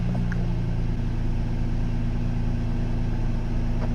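A car engine idles steadily while a 12-volt carport outlet charges a Jackery portable power station, a constant low humming drone, close and even, with no talking.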